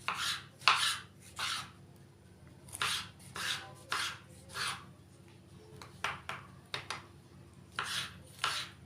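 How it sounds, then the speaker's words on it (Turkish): A knife chops potatoes on a cutting board in a home kitchen, with repeated clean strikes in small clusters against a steady low background hum, close and moderately quiet. "patateslerimi de doğruyorum"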